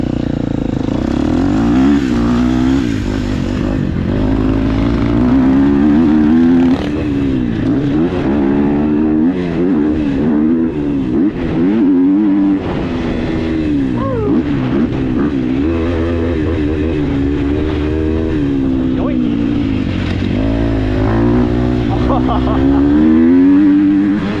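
A 250cc four-stroke motocross dirt bike, either a KTM 250SXF or a Yamaha YZ250F, rides a track. The engine revs up and down constantly with sharp throttle bursts and shifts, loud and close throughout.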